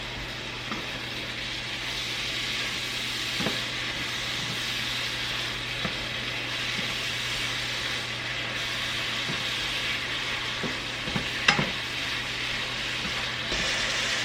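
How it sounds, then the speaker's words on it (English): Ground beef browning in a pan gives a steady, moderately loud sizzle, with a few faint scrapes and taps of stirring and a louder clack near the end. "And we're just going to brown this ground beef up."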